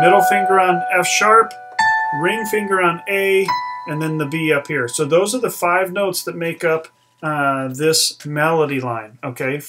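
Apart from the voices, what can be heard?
No distinct noise like a dog, phone or traffic.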